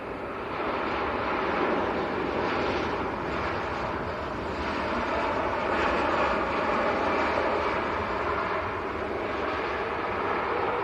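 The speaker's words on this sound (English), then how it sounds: "First to land shuttle 2 kilo A320 Neo from Heathrow." An Airbus A320neo shuttle from Heathrow landing at Manchester Airport, heard as a steady, broad engine roar that holds at a fairly even level throughout, with light wind noise and no talk.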